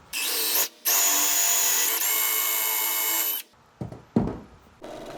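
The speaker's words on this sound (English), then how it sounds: "Then I'm gonna drill this through." A power drill runs a 3/4 inch Forstner bit through a piece of wood, giving a loud, close, steady high whine with one short pause, then clunks and handling noises as it stops.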